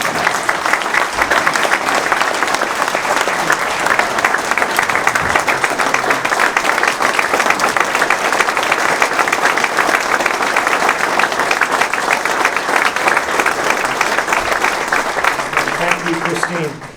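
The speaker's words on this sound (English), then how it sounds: "Let's give Bob another round of applause." A large crowd applauds steadily and loudly for a man named Bob at a football complex dedication ceremony, the dense clapping holding for about seventeen seconds before tapering off at the end.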